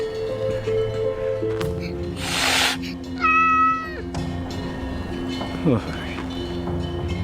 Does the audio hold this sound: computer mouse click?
no